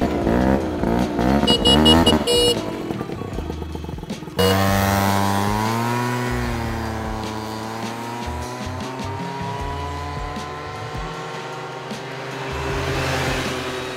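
A modified scooter with go-fast mods and a loud aftermarket exhaust revs sharply, then rides off in a long, steady, buzzing drone that rises and falls slightly with speed.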